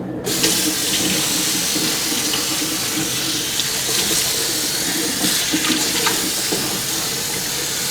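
Tap water runs steadily and loudly into a scrubbed fish tank during a rinse, a constant splashing gush with small fluctuations.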